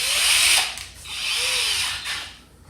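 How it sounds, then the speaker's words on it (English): A power drill fitted with a countersink bit whines loudly as it bores a screw-head recess, running in two sustained bursts with a short pause between and a brief squeal as the bit bites. "The job of the countersink is to create a hole for the head of the screw."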